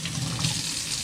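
Steady hiss of water running hard from a Delta single-handle faucet into a sink, a continuous close rush with no voices.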